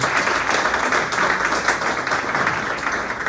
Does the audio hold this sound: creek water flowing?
no